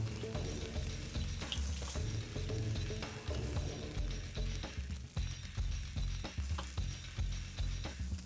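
Pork chops sizzle directly on hot embers of a live fire, a dense crackling hiss with irregular pops and shuffling as the meat is shaken, steady and close without speech.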